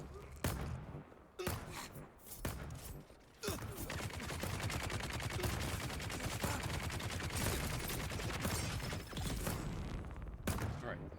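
Sustained bursts of rapid gunfire fill a Dune: Awakening battle, with single shots opening the scene before dense continuous shooting and a few mechanical clanks, loud and near.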